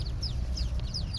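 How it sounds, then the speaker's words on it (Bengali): Lesser whistling duck chicks give repeated high, thin chirping calls in quick succession, close by over a low background rumble. "এই যে আপনারা দেখতে পাচ্ছেন, বালি হাঁস"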